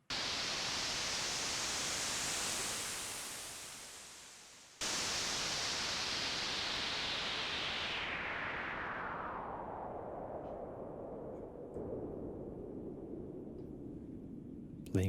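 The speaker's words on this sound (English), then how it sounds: "we can make wind sounds" Filtered noise from a synthesizer shaped into wind, a steady loud broadband rush that sweeps and dips, cuts off briefly, then returns and gradually darkens as the high end is filtered away.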